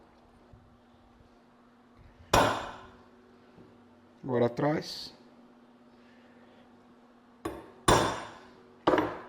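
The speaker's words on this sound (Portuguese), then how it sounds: "Agora já vou bater um punção" Sharp hammer strikes on a metal punch against hard metal ring out close up during knifemaking, one early blow and three more near the end, with a brief spoken phrase in between.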